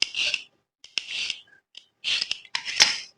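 A carrot being peeled with a peeler, several quick rasping scraping strokes in an uneven rhythm with short pauses between them, close and crisp with no talking.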